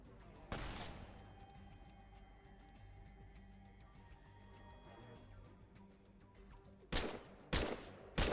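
Gunfire from the XCOM video game: a sharp burst near the start, then a sustained hum with faint clatter, and three more loud broadband blasts in quick succession near the end.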